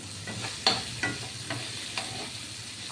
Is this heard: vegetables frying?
yes